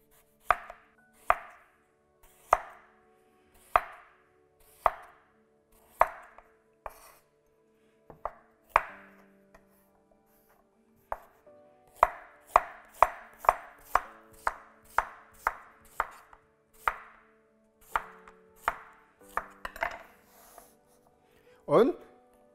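A knife chops sweet potatoes into slices about 5 mm thick on a cutting board for vegetable tempura, a long series of crisp, close, evenly spaced thuds that speed up into quicker runs.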